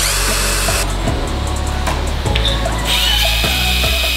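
A power drill works on a construction site, its motor whirring loud and close, stopping and restarting several times with pitch shifts as it bites and eases off.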